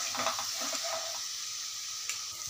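Spiced masala for palak paneer hisses and sizzles steadily in a pan with a splash of water while being stirred, a continuous close frying texture with a few faint scraping stirs near the start.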